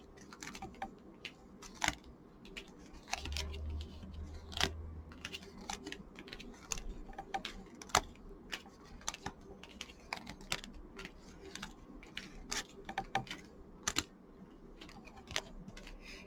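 Petit Lenormand cards are dealt onto a table one after another, giving a long run of soft, close taps and light clicks at a quick, uneven pace over a quiet background.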